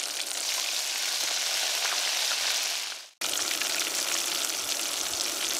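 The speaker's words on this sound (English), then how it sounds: "there we go. Up in that oil. We got sizzle?" Loud, steady sizzling of frog legs frying in hot oil, broken by a brief drop to near silence before the crackling resumes just as strong.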